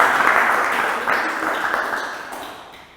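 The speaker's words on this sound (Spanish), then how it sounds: "Démosle un aplauso al Señor, hermano, porque solo eso lo puede hacer Él" A church congregation applauds during a virtual service, a dense burst of clapping that fades gradually over a few seconds.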